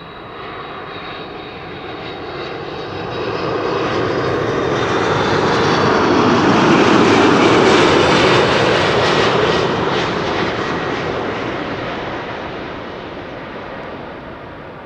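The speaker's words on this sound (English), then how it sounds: "This is Delta Airlines Flight 164 arriving from Minneapolis" A Delta Airlines jet arriving from Minneapolis, Minnesota roars past, its engine noise swelling steadily to a loud peak around the middle and then easing away, with no voices over it.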